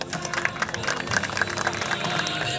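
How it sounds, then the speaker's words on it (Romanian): A crowd at a 2013 Arad motor race podium ceremony applauds the winners, with continuous scattered clapping that stays fairly close and steady and is mixed with crowd noise. "Aplauze pentru câștigători."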